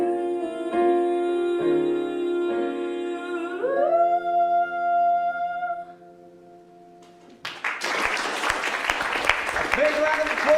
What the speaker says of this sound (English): Big round of applause, Miss Becca Axel